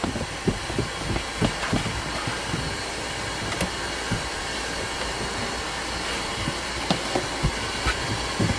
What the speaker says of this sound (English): go back in again with the shop vac. Just like this.